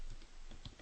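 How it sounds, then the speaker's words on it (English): A computer keyboard being typed on while code is written, with a few soft, quiet keystrokes tapping in an irregular rhythm at close range. "So I'm going to begin by typing a sub."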